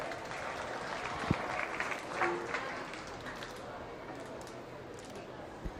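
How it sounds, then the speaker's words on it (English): Faint, distant applause from spectators at a youth swine show, light scattered clapping in a large barn-like space, with a few sharp knocks and murmuring talk underneath. "Let's give those young exhibitors a nice round of applause."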